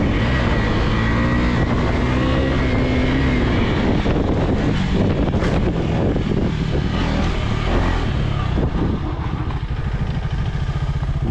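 KTM 250 motorcycle on a race track, engine droning steadily and loudly close to the microphone as it accelerates, with shifts through the gears and wind buffeting the rider's mic throughout.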